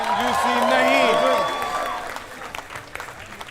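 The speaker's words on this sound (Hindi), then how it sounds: "जोरदार तालियां फॉर द एंटायर परिवार of the great Indian couple show" Studio audience applause on The Great Indian Kapil Show, a clattering wave of clapping that swells early and fades away, with a presenter's voice speaking over it.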